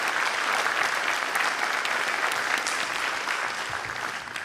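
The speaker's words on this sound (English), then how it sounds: "Please give them a round of applause for their commitment and their dedication." An audience at an evening town hall meeting applauds, a dense, even wash of many hands clapping at moderate volume that holds steady throughout and fades slightly toward the end.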